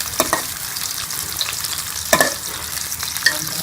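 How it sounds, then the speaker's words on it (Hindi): Onions frying and being stirred in a pan for restaurant-style aloo gobi, a steady close sizzle with a few sharp scraping stir strokes standing out, no voices. "इसके अंदर मैं प्याज डाल देंगे। इसका हम कलर चेंज कर लेंगे।"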